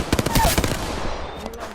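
Rapid automatic gunfire in the video game Apex Legends, a loud close burst of repeated shots in the first half that fades into a decaying echo.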